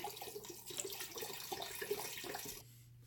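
Chicken broth pours from cartons into an Instant Pot, a soft splashing trickle that runs for a couple of seconds and then stops, leaving quiet room tone.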